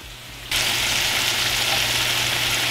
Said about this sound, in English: they're cooking down real nice, getting nice and juicy. The fat's coming out of them.